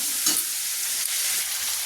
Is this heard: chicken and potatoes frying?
yes